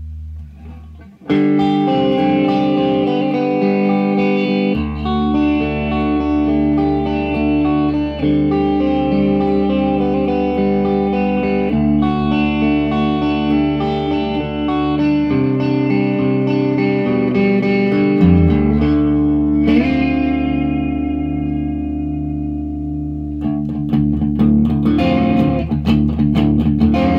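Electric guitar played through a Laney TT50 amplifier with added reverb, ringing sustained chords and single notes that change every few seconds, with a spacious reverberant tail and a closing strum.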